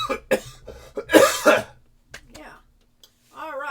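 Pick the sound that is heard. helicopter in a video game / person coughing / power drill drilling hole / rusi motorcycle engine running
person coughing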